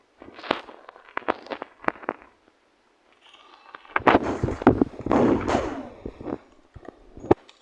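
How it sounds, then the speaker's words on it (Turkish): Gunfire in the Murder Mystery video game: a few sharp cracks, then a denser burst of loud bangs and crackling around the middle, ending in one last sharp report, with no speech. "Evet vurdum."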